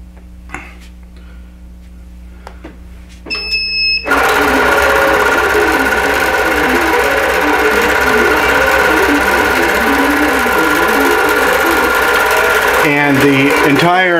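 A digital quilting machine starts stitching a quilt after a few soft clicks and beeps, then runs as a loud steady mechanical whir with rapid needle ticking, close by.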